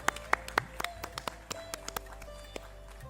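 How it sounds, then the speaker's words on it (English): Audience clapping at a probiotic symposium prize ceremony, a scattered burst of hand claps that starts with a few loud near slaps and thins out into sparse taps. "Big round of applause."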